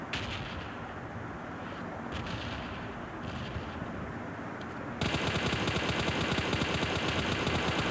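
M4 rifle firing in PUBG Mobile, rapid automatic bursts with a sharp crack, starting after a stretch of softer game noise and turning into a loud, continuous spray of shots toward the end.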